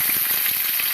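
Dried fish (daing) frying in a pan, a steady, close hiss of sizzling oil with faint soft crackles throughout and no voice.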